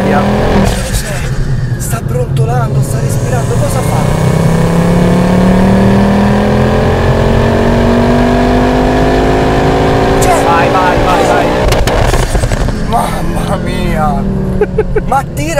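A 500 hp Ford Focus RS with a K16 hybrid turbo accelerates hard, its engine roaring loud and close as the pitch climbs steadily through the rev range, with turbo rush and whoosh layered in under excited talk inside the car.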